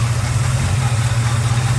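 A Ford Galaxie 500 engine running at a steady idle close by, with a loud, even low rumble and continuous vibration throughout and no voices.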